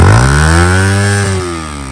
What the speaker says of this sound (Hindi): इसकी एग्जॉस्ट आवाज़ कैसी है सर